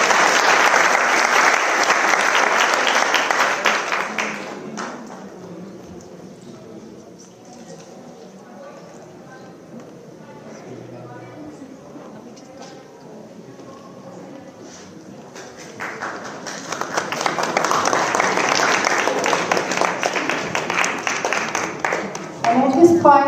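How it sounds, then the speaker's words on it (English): An audience at a Mahavir Jayanti celebration breaks into loud, sustained applause for several seconds. The clapping fades into murmured room sound and a speaking voice, then a second strong burst of clapping swells near the end. "Let's give them a huge round of applause,"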